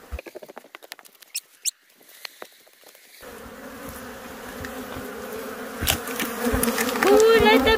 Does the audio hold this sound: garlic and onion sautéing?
no